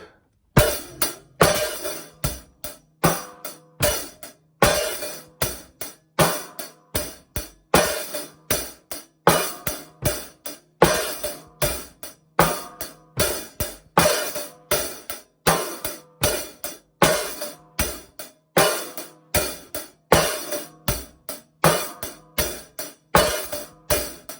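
A steady drum groove with sharp, evenly spaced hi-hat hits, accents falling with the snare strokes in a repeating pattern, played alone.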